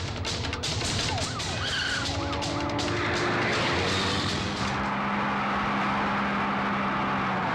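Police car siren in pursuit during a movie car chase, wailing loudly over a roaring engine and road noise, sweeping up and down before fading into a steady rumble.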